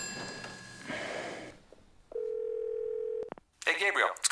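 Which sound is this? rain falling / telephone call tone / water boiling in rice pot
telephone call tone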